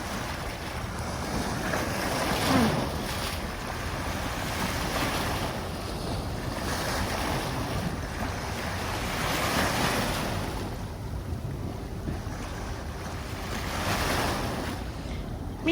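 Clear water laps and washes against a floating pier pontoon, a steady rolling surge with gentle swells, overlaid by blustery wind buffeting the microphone.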